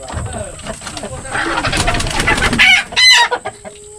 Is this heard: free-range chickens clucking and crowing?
yes